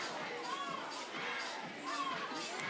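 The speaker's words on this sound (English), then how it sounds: "This nice crowd once again at Frost Stadium in Chattanooga" Crowd noise at a Chattanooga baseball game in Frost Stadium, Talons against the Blaze: a steady, distant murmur of many voices with scattered shouts and whistles rising and falling throughout.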